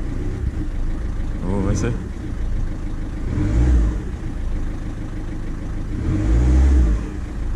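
A Ford Fiesta 1.4 TDCi diesel engine, freshly repaired after an injector fault, idles steadily and rises in two short revs, with a person speaking briefly over the running engine.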